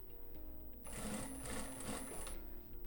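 A sewing machine runs a steady, continuous stitch through a tweed jacket for about a second and a half, loud and close, after quiet handling.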